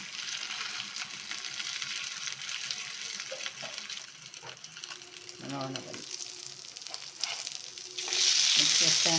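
Fish coated in green masala frying in a pan, a continuous close sizzle with crackles and a louder burst of spitting near the end.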